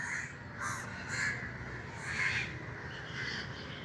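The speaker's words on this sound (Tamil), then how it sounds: "காக்கைகளை பாருங்கள், இவ்வளவு காக்கைகள்." Many crows cawing together at evening roost time in front of a public library in Jaffna under a cloudy sky, repeated overlapping calls rising and falling at moderate distance, with no talk.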